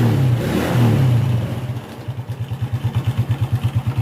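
A motorcycle engine idles steadily after new tyres, inner tube and a chain-and-sprocket set have been fitted, its low even pulsing thump close and loud, following a brief higher rev at the start.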